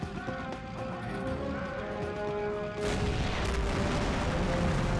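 Cannon shot in the Army Men of War toy castle siege game, with a single loud boom partway through that rolls into a sustained rumble, while faint tones sit underneath beforehand.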